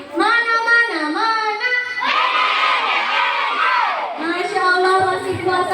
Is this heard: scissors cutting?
no